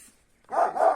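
A single close dog bark, loud and short, breaking a quiet moment.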